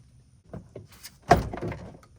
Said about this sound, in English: Let's get our door panel back on.